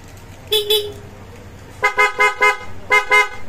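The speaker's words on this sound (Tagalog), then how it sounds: "Tapos busina." A scooter horn beeps: one short double toot, a pause, then a quick run of four beeps and two more, loud and close.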